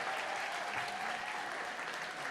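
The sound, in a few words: audience applause at community talent show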